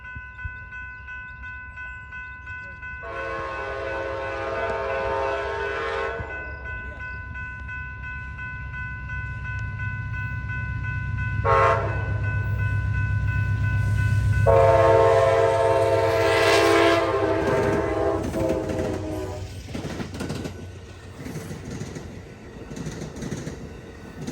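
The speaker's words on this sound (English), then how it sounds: "We got the P42 horn." An Amtrak P42DC diesel locomotive sounds a long multi-tone horn in several blasts as the Texas Eagle passenger train rumbles past, the low roar swelling and fading.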